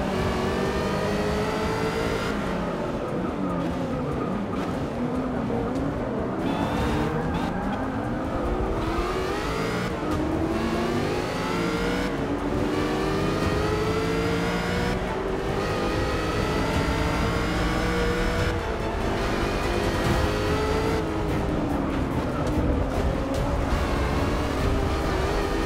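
A race car engine in Forza Motorsport 6 screams continuously, rising and falling through gear changes with repeated sweeping revs, loud and close throughout with no talk over it.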